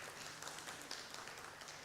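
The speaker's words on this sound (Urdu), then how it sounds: "میں آپ سب لوگوں سے کہوں گا ایک تالیاں بجا دیں" A conference audience applauds together, giving a dense, even clatter of many hands that carries on without a pause and sounds a little distant in the hall.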